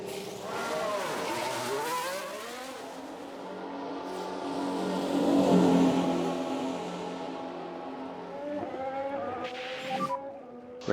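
A Haas Formula 1 car in F1 Manager 23 heads out on track, its high-pitched engine whining and rising as it accelerates, with a swelling pass midway. The sound is moderately loud and carries on without any voices.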